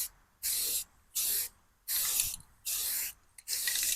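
A rifle gets its base coat from a spray can in five even bursts of bright hiss, each under a second long, separated by brief quiet pauses at close range.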